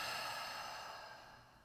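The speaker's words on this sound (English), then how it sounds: "Breathing out." A slow breath exhaled during a guided breathing exercise, a soft, airy sigh that fades gradually over a couple of seconds, heard alone and close with no talking.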